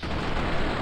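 Single gunshot from a weapon in Fallout: New Vegas, a loud, dense boom with a rumbling tail filling the brief moment, no talk over it.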